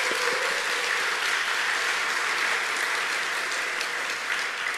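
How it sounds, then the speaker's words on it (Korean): A church congregation gathered for a youth dedication service applauds steadily, a dense, even wash of clapping from many hands that holds for the whole stretch with no talk over it. "우리가 박수로 한번 격려해 주시겠습니까?"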